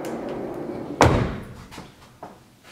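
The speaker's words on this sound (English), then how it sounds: "it's a pocket door" A pocket door in a hotel bathroom slides shut with one sharp, close thud, followed by a brief rumble that fades out, then a faint tap.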